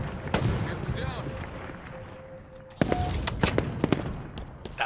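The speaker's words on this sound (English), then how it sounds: "Because when I shot him, it was headshot." Sniper rifle shots in the video game Halo, sharp, loud reports, one early and a cluster of repeated cracks later, over a busy game soundscape.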